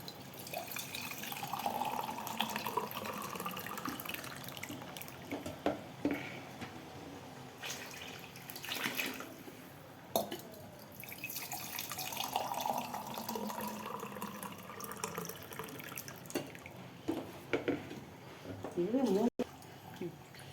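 Water splashes and trickles as it is poured onto rice in a pot for village-style chicken biryani, a steady close pouring with small clinks, while someone talks throughout.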